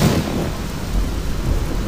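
Rain and thunder in the video game Fallout 3, a loud, close wash of pouring rain over a deep, continuous rolling rumble of thunder with no voices.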